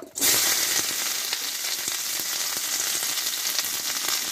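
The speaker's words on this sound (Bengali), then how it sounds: "এইবার এই তেলে দেব কেটে ধুয়ে রাখা ঢেঁড়সগুলো" Chopped, washed okra dropped into hot mustard oil, bursting into a loud, continuous close sizzle right after a brief quiet start, with faint crackles throughout.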